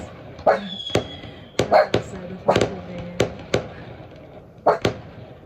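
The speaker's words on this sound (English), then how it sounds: "We have fireworks." Fireworks pop outside a camper van parked near Haituo, Beijing, a series of sharp cracks in irregular bursts, some doubled, cutting through a quiet background.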